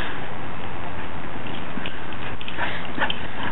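A shepherd collie plays excitedly, with brief snuffles and faint whimpering scuffles heard through a constant rushing wind-like noise.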